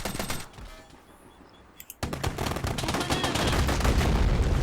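Rapid machine-gun bursts and rifle shots in the war game Men of War: Red Tide, first scattered, then after a short pause a loud, dense, sustained fusillade of close gunfire.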